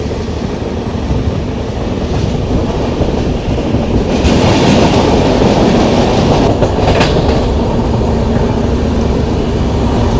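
The 12261 Mumbai CSMT - Howrah AC Duronto Express runs with a steady, loud rumble and rhythmic clickety-clack of wheels on rail joints, growing louder midway as it passes near a tunnel.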